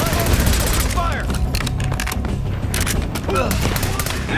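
Sustained automatic gunfire and bursts crackle through a firefight in Call of Duty: Black Ops 6, loud and continuous across the whole stretch with overlapping shots and booms.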